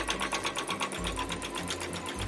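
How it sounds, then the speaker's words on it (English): A sewing machine chain piecing quilt pieces: steady, rapid, close mechanical stitching rhythm that pauses briefly about twice, with no talking. "I am just going to put this next piece under, line it up, and continue sewing."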